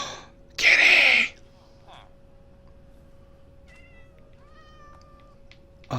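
A cat in the Minecraft video game gives a loud, short meow, followed by fainter high mewing sounds over a quiet background hum.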